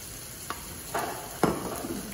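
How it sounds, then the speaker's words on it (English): Bolognese sauce with tomato and sugar being stirred in a pan, giving a soft sizzle with a few spoon scrapes, quiet and close. "Giving that a stir"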